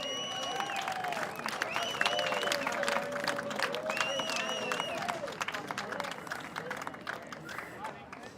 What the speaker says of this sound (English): Shall we give him a cheer? Let's hear it, folks.